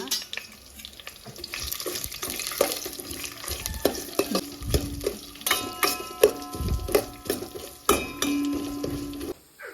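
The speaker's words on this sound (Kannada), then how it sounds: "ಮೆಂತೆ ಹಾಗೆ ಜೀರಿಗೆ ಹಾಕ್ಕೊಂಡು ಸ್ವಲ್ಪ ಫ್ರೈ ಮಾಡ್ಕೊಳ್ತೀನಿ" Fenugreek and cumin seeds fry over a low flame with a crackling sizzle. A spoon stirs and clinks against the pot in uneven bursts. The sound is close, with no talking.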